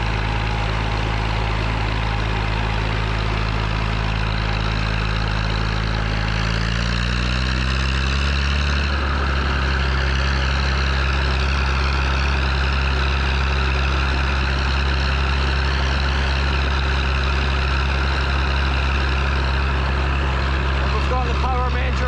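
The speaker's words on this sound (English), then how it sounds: "You can hear the exhaust note changing when we get to a hill like this. It starts barking louder." Vintage tractors at the Glenisla classic vehicle show in Scotland labour up a hill, a steady low engine drone whose pitch shifts and deepens as the load rises, continuous and fairly loud throughout.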